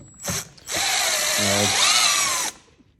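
Power ratchet tool removing T25 Torx screws on a 2024 Ski-Doo G5 Backcountry 850 X-RS snowmobile, a short burst, then a loud sustained whirring run of about two seconds, close up.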